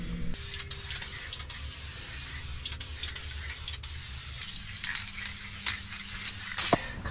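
Clear coat hisses from a spray can onto an interior part of a 1968 LeMans in short repeated bursts, with faint clicks and handling noises in between and no talking.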